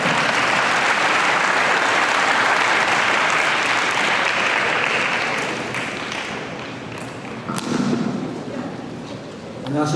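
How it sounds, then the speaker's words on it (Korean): At the opening ceremony of a national gymnastics championship, a large audience claps to welcome the next speaker, loud and steady at first, then thinning and fading toward the end as scattered claps and a voice come through. "큰 박수로 환영해 주시기 바랍니다"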